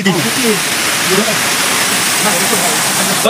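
A river rushes beside the Kadyatil Maruti temple in Padali, a loud, constant roar of flowing water with people talking over it.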